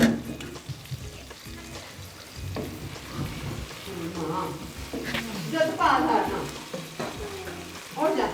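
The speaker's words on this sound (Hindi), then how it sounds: "और इसको फ्राई करें।" Chicken sizzles in a pan after being cooked on low heat, a dense frying crackle with stirring scrapes that rise and fall, while a voice talks over it.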